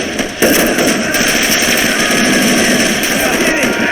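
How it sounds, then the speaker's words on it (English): Continuous rapid machine gun fire from the Great War Of Army Men 5 video game, a steady loud rattling stream that runs without a break for about four seconds. "Oh yeah, the machine gun right there."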